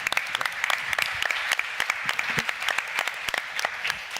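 A crowd claps steadily and warmly throughout, dense and even, with no voices standing out.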